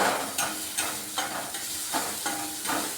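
Steady frying sizzle of onion, ginger and garlic in a pan with periodic soft scrapes of a spoon stirring, fairly close, no voices.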